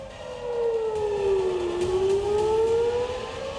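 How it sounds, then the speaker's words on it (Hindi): An air raid warning siren sounds during a wartime mock drill, a single steady wail dipping in pitch and then rising again, heard clearly with no voices over it. "ये सायरन हवाई हमले के अलर्ट का है।"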